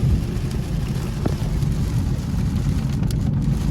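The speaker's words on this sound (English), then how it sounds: "This rain crazy as hell." Heavy rain while driving a car: steady dense low rumble of rain and road noise inside the car, continuous with no talking.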